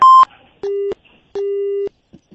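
A telephone line gives a busy tone after a call is cut: a short higher beep, then two longer, lower electronic tones with clean gaps between them, clear and isolated.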